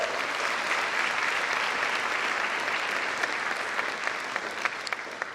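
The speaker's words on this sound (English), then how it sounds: "please join me in giving them a warm round of applause." A large audience at a school district Teacher of the Year celebration claps continuously in a dense, steady wave of applause that stays loud throughout the whole stretch.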